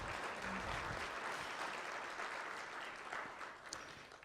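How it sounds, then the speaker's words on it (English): Applause from a crowd at a child trafficking education and prevention event, a faint, steady wash of clapping that tapers slightly toward the end. "let's give a big round of applause to Kelly Dora"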